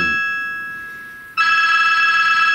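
Telephone ringing with a steady electronic tone that fades briefly, then jumps back louder as a warbling trill that continues to the end, close and alone with no talk.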